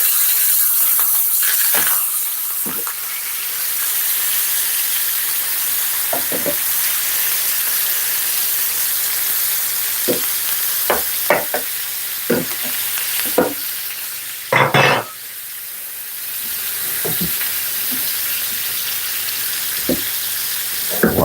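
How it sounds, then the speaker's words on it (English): Pork tenderloin sears in a hot pan with thyme added alongside, giving a steady close sizzle with sharper spits and pops scattered throughout and a louder crackling burst midway. "Put some thyme down the side there. Remember, we're searing this."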